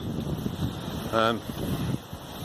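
A southwesterly wind blows along a beach, buffeting the microphone with a steady, blustery rumble while a voice briefly speaks over it.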